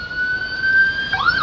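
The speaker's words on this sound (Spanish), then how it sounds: "ahí pasa una ambulancia" An ambulance siren passes along a street of grocery and wholesale shops in Cúcuta, a loud steady wail that bends and sweeps as it goes by, with no voices.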